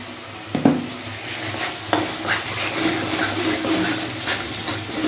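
A utensil stirs fish with salt in a pan, giving close, repeated scraping and clinking strokes over a light background sizzle, with no talk.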